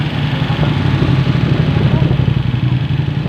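Steady engine rumble from motorcycles ridden by touring riders passing on a road near Casiguran, Aurora, continuous and fairly loud throughout.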